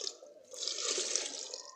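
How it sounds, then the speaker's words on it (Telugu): Water pours steadily into a tub for a cat's bath, a close, continuous splashing stream that swells after a brief dip, with no talk. "నేను వాటర్ పోస్తున్నాను స్నానం చేయడానికి"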